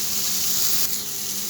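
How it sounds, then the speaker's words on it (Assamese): Chopped tomatoes frying in a pan, a steady close hiss of sizzling oil that eases slightly partway through, with no talking. "এতিয়া ভালদৰে এইখিনি ভাজি ল'ম"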